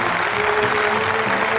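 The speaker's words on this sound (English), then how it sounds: "That noise is applause" Applause from an audience in a 1939 film, a dense, even wash of clapping hands that stays steady and fairly loud, muffled in old-recording tone.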